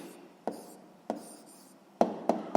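A pen writes down answers on paper for a sixth-grade maths exercise, heard as a few short scratching strokes separated by brief pauses, close and quiet.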